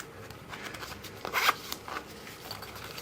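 Zipper on a pouch for a fixed-blade or slip joint knife, a single quick zip pulled close and clear with faint handling rustle around it.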